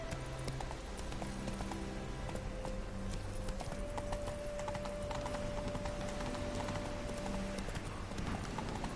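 Hooves of Roach, a horse in The Witcher 3, clip-clop at a steady gallop throughout, close and continuous, with a sustained musical tone running beneath the hoofbeats.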